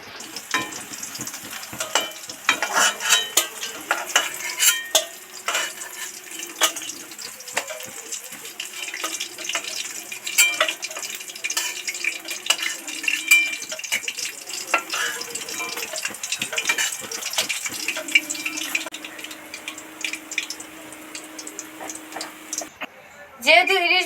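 Hilsa fish pieces frying in hot oil in a home kitchen and being lifted out of the pan, with steady sizzling and stirring, some scraping and water-like splashes, continuing throughout at moderate loudness.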